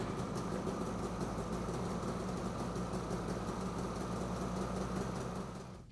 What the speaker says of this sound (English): Finish by starting the snowmobile to verify the battery has been connected properly.